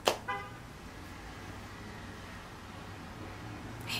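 Cars pass by outdoors with a steady road hiss, and two short car horn toots sound near the start, a brief honk returning at the end.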